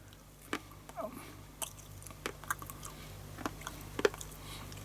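Soft, sporadic chewing and crunching of 46-year-old bubble gum from 1979 Star Trek: The Motion Picture Topps trading cards, brittle and crumbling, heard close over a low steady hum.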